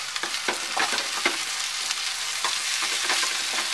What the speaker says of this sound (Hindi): इसे भी सॉटे कर लेंगे 1 मिनट के लिए ताकि ये हल्के से सॉफ्ट हो जाए